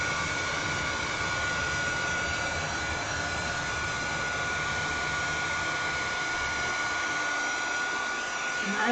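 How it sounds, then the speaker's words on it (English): A hair dryer blows continuously at close range, a steady loud whooshing whine with no pauses. "Whew, is it hot with that hairdryer?"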